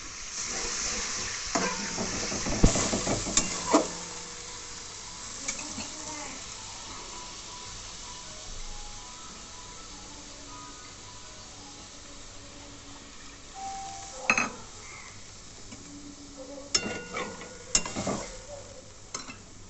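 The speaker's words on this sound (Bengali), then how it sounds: "এবার জল দিয়ে দিই।" Water poured into a mustard puti fish curry sets off a quiet, continuous sizzle in the pan, broken by a few louder scraping bursts of stirring.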